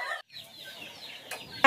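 Laying hens cluck softly beside a nest at a poultry farm, a short, faint burst of fowl sounds heard close by without any talking.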